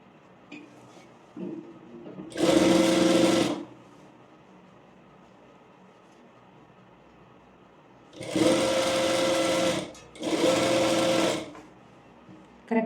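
A sewing machine stitches a dart on a blouse in three bursts of steady whirring, one around two seconds long and a close pair later, separated by quiet pauses with faint handling noises.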